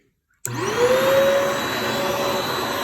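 A Riccar Tandem Air Pet vacuum cleaner switches on abruptly after a moment of silence, then runs loud and steady with a whining motor tone rising to a constant pitch.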